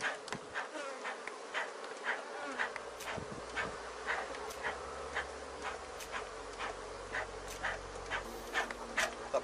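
Honeybees swarm and buzz in a dense, steady drone as a hive is opened and smoked during a colony split, with many individual bees passing close by.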